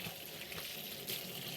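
Hot tap water runs steadily over hands being washed at a sink, a constant soft hiss and splash, quiet and close with no talking.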